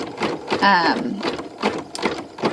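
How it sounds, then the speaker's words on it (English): An embroidery sewing machine stitches a bee design on its second hooping, a steady close mechanical whir with a brief higher tonal passage, heard under a person talking. "I want to show it stitching this last little part"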